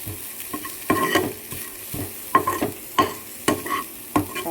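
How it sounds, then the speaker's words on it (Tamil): Grated coconut being sautéed in a pan for rava kozhukattai, with a spoon scraping and stirring in rhythmic strokes over a soft sizzle, close and clear, no speech. "இதை கொஞ்சம் வதக்கி கொட்டிக்கிட்டோம்னா நல்ல வாசமாக இருக்கும்"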